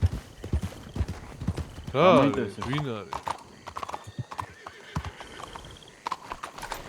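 A horse's hooves clip-clop in quick rhythm, broken by a loud, wavering neigh near the middle, with people talking over and around the sounds.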